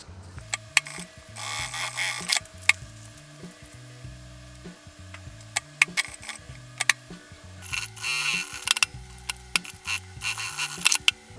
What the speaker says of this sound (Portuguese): eu vou fazer uma costura sobre essa marcação aqui